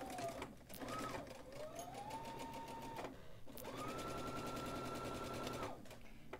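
A domestic sewing machine back-stitches and then stitches a quarter-inch seam on a dress, running in steady rapid bursts of needle clatter with brief pauses between runs and a rising whine as the motor speeds up.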